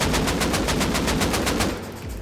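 Machine gun fire in the Rust video game: a rapid, even burst of about a dozen sharp shots lasting under two seconds, then a short fading tail, with no talk.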